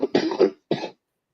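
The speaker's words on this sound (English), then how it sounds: "That's why I'm coughing." An adult with a touch of bronchitis coughs in two quick bursts, a harsh rattling pair followed by a single cough, close and distinct with silence after.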